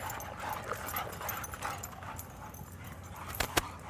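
Dogs playing together let out a few soft whimpers and yips amid scuffling movement, fairly quiet and close, with a sharper yelp near the end.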